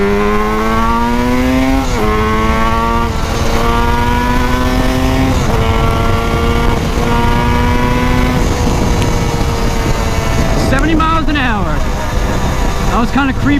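A Yamaha RD350 R5 cafe racer motorcycle pulls hard and loud, its engine note climbing and dropping through repeated gear changes as it accelerates, with rushing wind noise toward the end.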